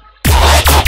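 Heavy bass synth patch from Serum, bursting in loud after a brief silence with thick low drone and rhythmic swooping filter sweeps, alone without talk.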